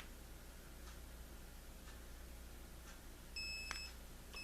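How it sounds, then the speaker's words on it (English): A Polaroid Cube+ HD mini action camera gives a few short, high, thin beeps near the end after being held on to power up, faint against a quiet room hiss. "you get 3 little beeps and a green light"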